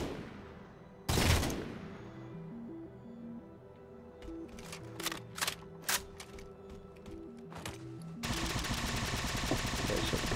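Weapon fire in the game Halo 4 on Legendary difficulty, scattered sharp bursts of shots under a rhythmic music track, with a loud blast early on and dense, noisy firing toward the end.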